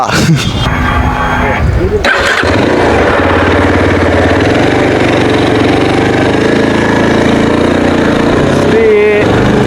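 A motorcycle engine running close by, a steady, loud mid-pitched drone that holds throughout with slight rises in revs, while people talk over it.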